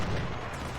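A rifled cannon fires in the Civil War strategy game Ultimate General: Civil War, making one short, heavy boom that fades quickly.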